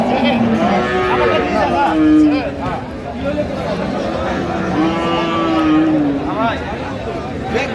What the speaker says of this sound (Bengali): শাহিওয়াল জাতের গাভী ও বাছুর গরুগুলো বেচা কেনা হচ্ছে